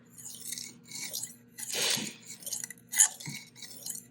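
Knife edge drawn across a wet Spyderco ceramic sharpening stone during freehand sharpening, giving a series of gritty scraping crunches, with one strong stroke near the middle and a sharper one toward the end, close and fairly quiet.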